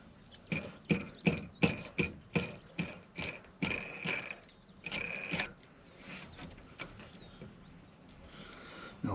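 Metal nuts being spun onto roof rack studs with washers on a camper van, a quick run of about nine sharp clicking, ratcheting taps close by, then fainter scraping and handling noises; no talk.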